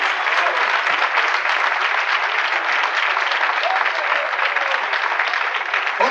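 A church congregation breaks into loud, steady applause during a Spanish-language sermon, dense clapping from many hands filling the room evenly from start to finish with no voices standing out.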